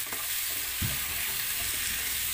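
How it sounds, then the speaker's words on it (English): Carrots, potato and other vegetables sautéing in a hot pan for a beef stew, a steady broadband sizzle with a few stirring scrapes and knocks, close and continuous. "And then we have to saute these vegetables"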